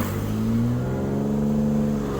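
A learner drives a car through crawling, congested traffic during a driving lesson, its engine revving up with rising tones as it accelerates, loud and close in a steady interior drone.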